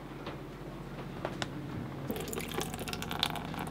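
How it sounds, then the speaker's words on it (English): Water pours in a short splashing trickle into a dog's water bowl aboard a sailboat crossing the North Atlantic, faint and close, with small drips before a fuller stream. "We can only fill it up a little bit, and then we have to refill it all the time so that it doesn't spill"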